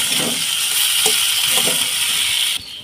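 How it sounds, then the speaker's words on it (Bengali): Potatoes frying with spices in a pan give a steady close sizzle with soft stirring scrapes, ending abruptly. "আমি একটু ভালো করে মশলার সাথে কষিয়ে নেব"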